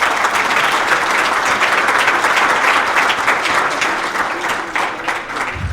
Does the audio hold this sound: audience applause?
yes